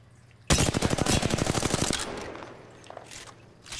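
Automatic weapon fire in Apex Legends: one loud, close burst of rapid shots lasting about a second and a half, followed by quieter in-game clatter.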